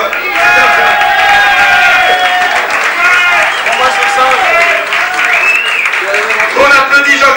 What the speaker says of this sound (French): On applaudit Jean-Christophe.